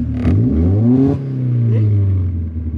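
A Toyota AE86 with a 3SGE engine revs up high from idle, a loud, close engine climbing in pitch in a couple of surges and then holding steady.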